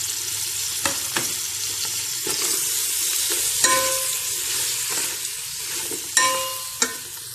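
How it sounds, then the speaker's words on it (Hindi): Ginger and garlic fry with sliced tomatoes in a pan for chicken pulao, giving a steady moderate sizzle punctuated by occasional spoon clinks and scrapes. "अदरक लहसुन के बाद इसमें शामिल करने लगी हूँ 2 अदद गोलाई में कटे हुए टमाटर"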